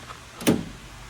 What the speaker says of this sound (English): Let me open up this door.